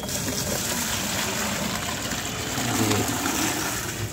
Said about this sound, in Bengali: উনি নিজস্ব ড্রামে মাছগুলো ঢেলে নিচ্ছেন